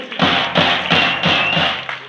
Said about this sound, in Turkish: tüm Arcaklar'dan bir alkış Ferit Yıldırım'a gitsin